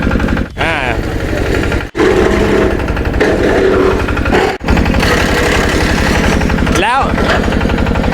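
Tractor-mounted wood chipper on a small articulated tractor shredding hardwood, a loud continuous engine roar with rapid rattling, grinding bursts and brief dips as pieces feed through, voices faintly under the machinery.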